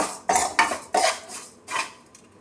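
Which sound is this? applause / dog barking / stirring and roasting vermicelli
stirring and roasting vermicelli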